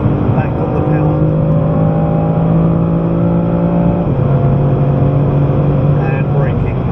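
A BMW M3 on a Goodwood hot lap pulls hard under power, its engine note climbing through a gear change, loud and close inside the car.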